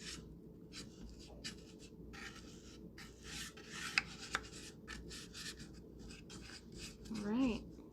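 A paintbrush is twisted and rubbed into the inside corners of a box, giving soft, repeated bristly scrubbing strokes that are close and fairly quiet, with brief talking around them.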